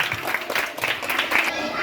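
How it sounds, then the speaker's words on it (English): A school audience claps in brief applause to welcome a coordinator, a short burst of many hands blended with speech from the room. "let's welcome him with a big round of applause"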